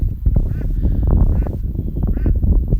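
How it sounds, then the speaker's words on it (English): Several ducks quack loudly and repeatedly in a wide open field, their calls coming in dense, overlapping bursts throughout. "You can probably hear those ducks."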